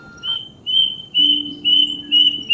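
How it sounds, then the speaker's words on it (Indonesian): A plaintive cuckoo (kedasih) sings in the wild, repeating a clear whistled phrase four or five times in an even rhythm, close and fairly loud over a soft background hum. "seekor kedasih yang tengah bernyanyi meratapi nasibnya"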